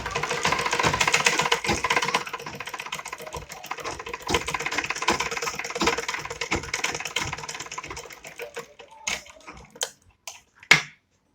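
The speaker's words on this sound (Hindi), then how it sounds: "हम दोनों इलास्टिकों को पकड़ के सिलाई करते हैं" A sewing machine stitches two elastics together with a rapid, even mechanical rattle up close. It runs continuously for several seconds, then stutters through a few short bursts and stops.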